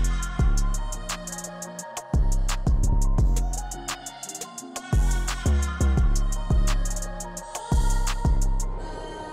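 A chopped vocal loop built from FL Studio's Bangers preset plays alone for about nine seconds, with punchy, evenly spaced rhythmic hits, deep low-end thumps and bright sustained tones repeating in a steady beat pattern.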